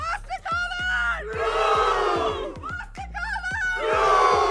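Large esports arena crowd at a VALORANT Game Changers Championship knockout match roaring and chanting in loud, rhythmic waves, continuous and close throughout.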